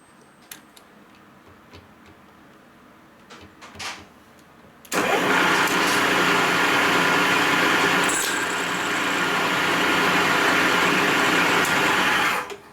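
A machine tool takes a cut on a clutch part from a 1972 Harley-Davidson XL Ironhead Sportster. A few quiet ticks come first, then a loud, steady machining roar starts abruptly and runs for about eight seconds before stopping.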